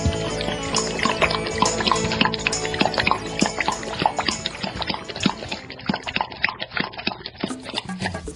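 Water pours and drips as a short sound effect for a radio break, a busy, continuous liquid splashing with scattered clopping taps throughout, fairly loud and steady with no voices.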